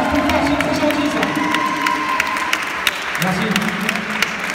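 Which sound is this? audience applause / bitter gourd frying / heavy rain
audience applause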